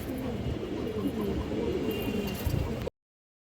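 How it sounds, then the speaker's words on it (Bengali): A male high-flyer pigeon with bright red plumage coos softly amid steady background noise, low murmuring calls running about three seconds before cutting off. "এই যে দেখেন দর্শক টকটকা লাল গিয়ারের একটা হাই ফ্লায়ার নর কবুতর"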